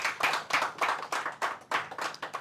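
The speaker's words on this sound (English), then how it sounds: "who you can clap for him" Audience clapping for a man being introduced at a mentee testimony session, heard as a loose, uneven patter of hand claps in bursts roughly every half second, fairly close and with no talk over it.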